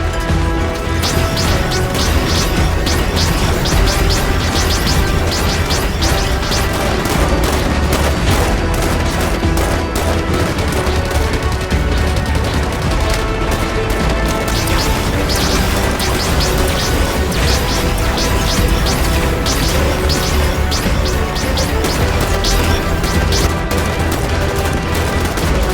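Intense battle in the video game Halo 5, with dense continuous gunfire, rapid fusillades and crashing explosions layered loudly throughout under a busy, sustained roar.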